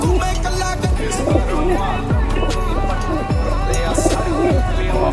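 Pigeons coo repeatedly nearby, low rolling calls recurring about once a second over a busy background with other birds chirping.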